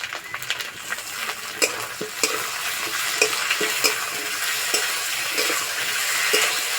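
Onions and potatoes fry in a pan as garlic, ginger and cumin paste go in for a fish curry, giving a continuous sizzle broken by repeated scraping stirs, close and fairly loud, with no talk.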